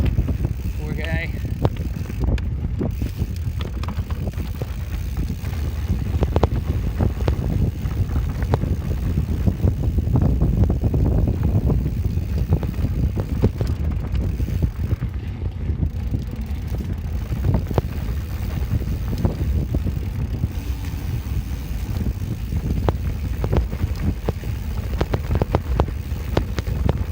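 A mountain bike with big knobby tires and plenty of suspension rattles and thumps over a bumpy canyon trail, with steady rushing wind noise on the microphone and occasional talking.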